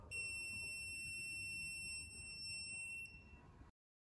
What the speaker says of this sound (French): l'alarme retentit en continu